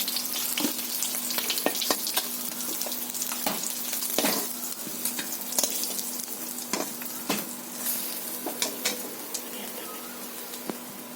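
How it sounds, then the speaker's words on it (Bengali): Fish frying in hot oil gives a steady, fairly loud crackling sizzle throughout, with irregular clicks and pops and a few soft utensil taps close by, and no voices. "মাছগুলো ভাজা হয়ে গেছে, আমি তুলে নিচ্ছি"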